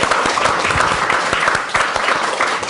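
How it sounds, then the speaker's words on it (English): Audience applause after an interview event, a dense, steady wash of many hands clapping at close range, sustained evenly throughout with no voices on top. "I want you to give him a round of applause"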